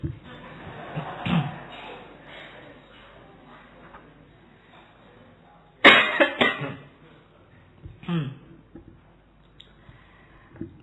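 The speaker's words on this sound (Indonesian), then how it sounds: "Ayo lomba batuk." Several coughs ring out in a room during a philosophy lecture, a loud burst near the middle followed by more scattered coughs and murmuring from a crowd.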